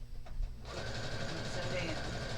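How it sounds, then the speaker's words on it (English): A sewing machine starts up partway through and runs steadily at close range, back stitching along the seam of a two-toned tote bag, after a brief moment of near quiet. "I'm going to put needle down and back stitch back to the beginning."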